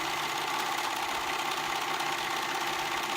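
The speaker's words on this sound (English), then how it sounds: "Serging it on, making sure that I catch both fabrics." A serger runs continuously while stitching a sweater sleeve onto the body, a dense, steady, close mechanical whir with an even rapid rattle and no pauses or talk.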